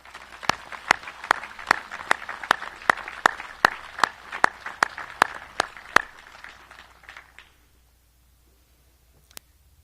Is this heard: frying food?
no